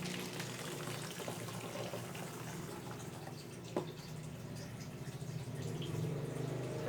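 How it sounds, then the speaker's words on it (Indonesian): Water being poured into a glucose solution for yeast fermentation, a steady splashing pour with a soft continuous wash of liquid noise throughout and a brief clink midway. "Kita masukkan airnya ke dalam larutan yang B."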